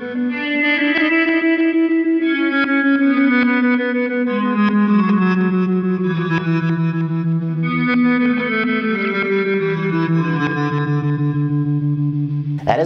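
A Horizon Devices Flux Echo pedal with its mix turned fully up washes a sustained electric guitar line in dense, shimmering echo and modulated repeats, notes smearing into one another in a continuous ambient swell.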